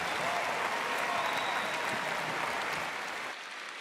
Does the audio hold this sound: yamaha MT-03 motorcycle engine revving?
no